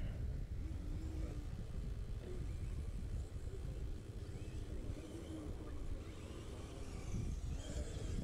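Several 1/8 scale RC race cars in a novice B-main race run around a raceway track, their engines a steady, fairly distant buzzing drone that rises and falls slightly as they lap, with no talk over it.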